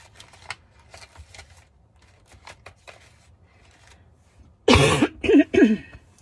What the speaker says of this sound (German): Entschuldigung, also dieser Husten.